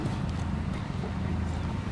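A Marwari horse at a stud farm moves over the ground with a dull, continuous patter of hooves in a noisy outdoor setting, no one speaking.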